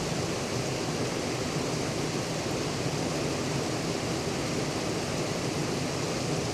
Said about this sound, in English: Right, that's the end of the waterfall again.